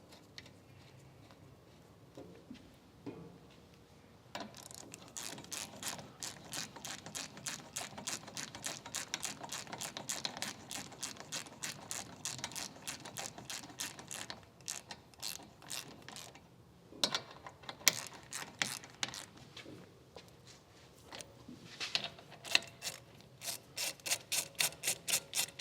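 A hand ratchet clicks in long rapid runs while tightening the front brake caliper fixing bolts on a 2016 Chevrolet Suburban LT, close and fairly quiet, with brief pauses between bursts.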